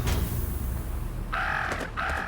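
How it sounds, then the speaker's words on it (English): Rooks caw from a rookery in a game scene, two harsh calls rising over a low rumbling background, the second coming shortly after the first. "I've angered the crows."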